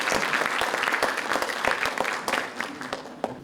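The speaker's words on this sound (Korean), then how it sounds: "큰 박수로 부탁드리겠습니다" An audience at a sports forum event greets a mayoral candidate with steady, dense applause that fades toward the end, heard from within the hall at moderate level.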